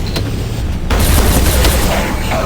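A grenade goes off in the Strogg-versus-human shooter Quake Wars, a sudden loud blast that cuts in partway through and leaves a rumbling, crackling wash of battle noise behind it.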